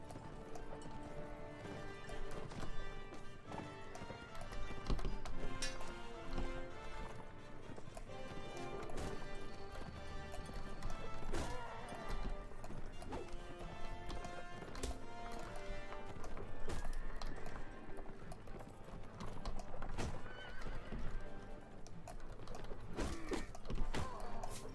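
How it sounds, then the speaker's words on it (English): Horse hooves galloping in the Mount & Blade: Warband game, a quick rhythmic clip-clop running continuously under game music and ambient battle sound. "Horse might be swayed back now, but I'm not sure."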